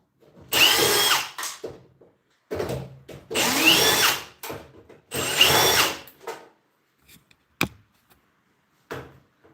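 A handheld power driver spins screws out of a microwave's fan surround during a teardown, three loud whirring bursts of a couple of seconds each, followed by a few short clicks and rattles, close and without talk.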